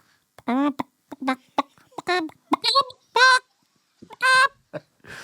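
A voice imitates a chicken with a series of short squawking, clucking bursts, rising and falling in pitch, loud and close with brief gaps between calls.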